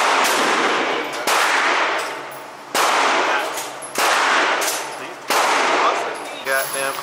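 Gunfire at an outdoor shooting range during a training day, five loud, sharp shots spaced about a second apart, each ringing out with a long decaying echo, close and dominant.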